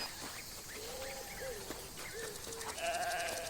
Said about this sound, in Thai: นี่แพะโอ้โห